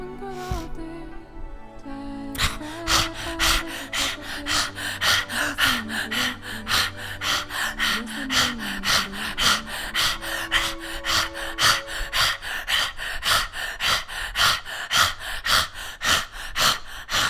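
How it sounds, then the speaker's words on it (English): Rapid, rhythmic panting breaths of Kundalini yoga breathing, loud and close, sharp pulses repeating steadily for the whole stretch, with a few slower breaths at the start. "Breathe like a panting dog, but it's also a deep inhale."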